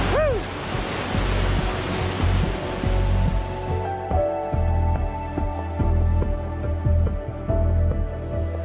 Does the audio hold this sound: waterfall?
yes